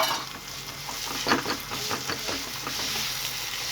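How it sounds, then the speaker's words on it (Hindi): Egg bhurji with onion being stirred as it fries in a pan, steady sizzling close up with soft repeated scraping strokes of the spoon. "इस सारे को अच्छे से इसकी भुजिया को मिक्स करेंगे, ताकि जो जर्दी है हमारी वो भी अब पक जाए"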